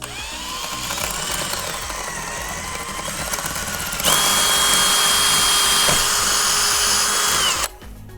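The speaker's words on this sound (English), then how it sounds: "Gonna drill" A power drill with a masonry bit bores into stucco on a house wall while a vinyl rain gutter is being installed, a continuous close whine that rises in pitch and loudness partway through before cutting off near the end.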